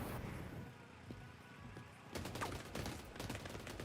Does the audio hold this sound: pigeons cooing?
no